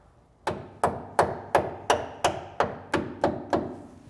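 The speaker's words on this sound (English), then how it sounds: "Get our Ford tool, give it a little tappy tap." A Ford tool taps a new brake line retainer clip into place during a 1962 Impala disc brake conversion: ten sharp, evenly spaced metallic taps, close and fairly loud, with no talking.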